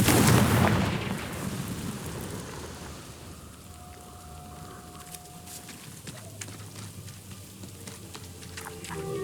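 Blasting-spell explosions in Hogwarts Legacy, opening with a loud, broad rumbling burst that decays into a long, low crackling tail with scattered fainter pops.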